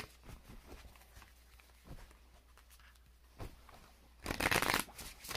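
Tarot cards shuffled by hand in a quiet room, soft papery riffles and taps building to a brisk, louder flurry near the end, with no talking.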